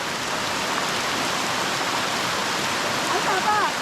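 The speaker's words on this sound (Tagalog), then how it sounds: "Lumakas ang ating ulan oh." Steady heavy rain pours down on a corn field in a dense, continuous hiss, close and loud, with no pauses.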